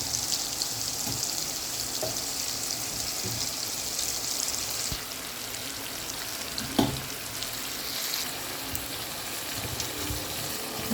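Brinjal, potato and tomato pieces for a rohu fish curry frying and sizzling steadily in a pan with spices, a continuous close hiss with a few soft stirring knocks and no talking.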